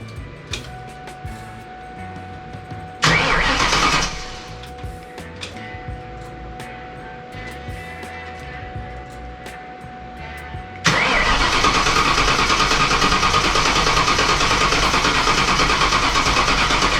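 A Cobra car engine turning over after its fuel pump is primed: a short pump whir and cranking burst, then a loud start that settles into a steady, close idle for the final stretch.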